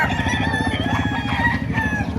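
A rooster crows loudly and close, one drawn-out call with hens clucking around it.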